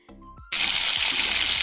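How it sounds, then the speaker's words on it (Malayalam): Squeezed tamarind water poured into a pan of sardine curry being made in a pressure cooker: a short quiet lead-in, then a sudden loud, steady gushing pour that continues to the end. "ഇനി പുളി പിഴിഞ്ഞ് വെച്ച വെള്ളം കൂടി ഇതിലോട്ട് ഒഴിച്ചു കൊടുക്കാം"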